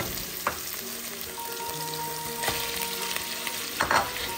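Marinated meat sizzles steadily in a pan with fragrant fried purple shallots, a constant close frying hiss broken by a few scraping stirs, with no talking.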